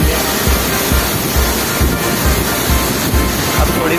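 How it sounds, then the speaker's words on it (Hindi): Dhareshwar waterfall roaring close by, a loud, dense, continuous rush of falling water that fills everything, with low rumbling pulses underneath. "यहाँ पे बहुत शोर शराबा हो रहा है, एकदम आवाज़ बहुत सारी हो रही है झरने की।"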